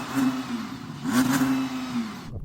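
Audi R8 supercar engine on snow revving at a steady held pitch, a sustained mid-range drone that swells and sags slightly over about two seconds, close and fairly loud with no talk.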